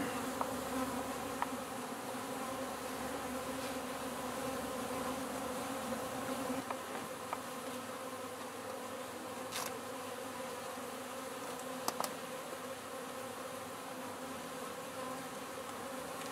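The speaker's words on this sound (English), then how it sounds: "A lot of bees." Honey bees swarm around an open hive brood frame, a dense steady buzz lasting the whole stretch, with a few brief louder passes close by.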